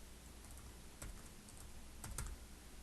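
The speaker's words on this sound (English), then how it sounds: "I'm just going to type the word ping pong." Typing on a computer keyboard, entering a short word into a software field: a sparse run of soft key clicks bunched in two small clusters over a low, steady room hum, with no voices.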